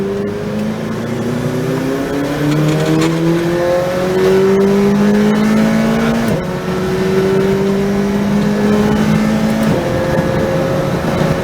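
Race car engine at SpeedVegas in Las Vegas, loud and close, revving through rising gear pitches with shifts and a brief drop as the car builds speed on the last lap of a track session.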